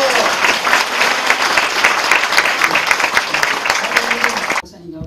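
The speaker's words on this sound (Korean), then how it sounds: "뜨겁게 한번 박수 해주시기 바랍니다." A church congregation claps loudly and warmly during a pastor's installation ceremony. The dense, continuous applause runs for several seconds and then cuts off abruptly.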